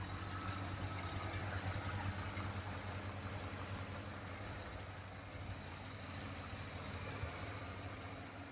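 A 2007 Chevrolet Suburban V8, after a DOD/AFM delete, idles smoothly and quietly with a steady low hum and no ticking, heard up close with no talk.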